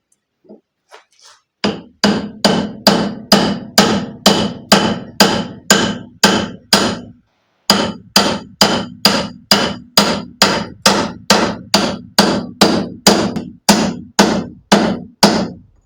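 A bar is tapped into the rear bearing of a Renault 4L through a length of tube, giving a long, steady series of close, sharp metallic hammer blows at an even rhythm, with one brief pause partway through.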